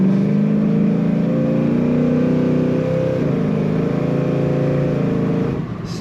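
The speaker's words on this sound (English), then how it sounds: "This car has a very sweet exhaust sound." Throaty exhaust of a 1966 Chevrolet Chevelle two-door hardtop, its engine revving and idling loud and close, with sustained harmonic rumble that shifts pitch around the middle before easing off at the end.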